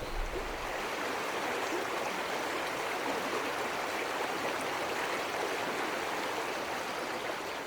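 A small wild river flows steadily, a continuous broad rush of water that stays close and even throughout with no voices.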